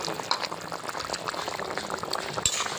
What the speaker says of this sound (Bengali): এবার আর একটু ফুটবে ফুটলেই নামিয়ে ফেলবো